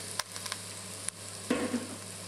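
Chinese sausage sizzling in a hot pan, a close, steady frying crackle with a brief burst of stirring and spattering partway through.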